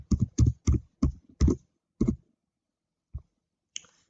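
Keys tapped on a computer keyboard, including presses of the backspace key, come as a run of distinct close clicks in quick succession, then a pause and two more isolated taps, with no talking.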